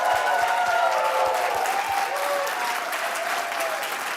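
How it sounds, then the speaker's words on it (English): Awards-finals audience at a food hackathon event clapping in sustained, dense applause throughout, loud and steady with a few louder claps up front and faint crowd murmur beneath. "I want to give them one more round of applause"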